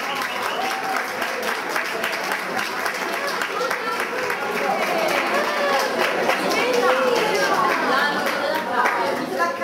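Audience applause at a winter cosplay festival, sustained clapping from a crowd throughout, with an announcer's voice and crowd chatter running over it.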